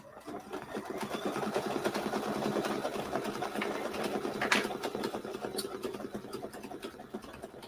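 An embroidery machine hums and stitches continuously at a steady, rapid rhythm while sewing a placement line for a quilt block, close and even throughout.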